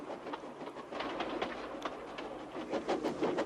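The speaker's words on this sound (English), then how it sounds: "he was pulling a dirty freight train" Steam locomotive pulling a freight train, heard as a faint rhythmic clickety-clack of wagons rolling over rail joints, with repeated light knocks spaced through the passage.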